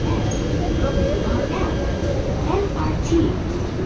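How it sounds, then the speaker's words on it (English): An LRT train pulling into a station platform in Kuala Lumpur, a loud steady low rumble and roar with faint squeals and clanks, close by, while people talk nearby. "Well, this is the train, apparently."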